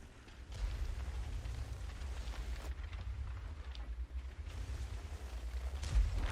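Tank ammo rack explosion in World of Tanks on an Object 430U, a deep sustained roaring blast with low rumbling and crackling bursts, heavy and continuous, no voice over it.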